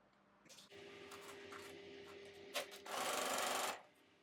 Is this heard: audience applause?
no